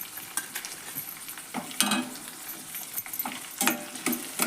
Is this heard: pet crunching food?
no